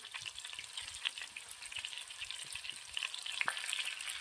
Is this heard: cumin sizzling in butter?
yes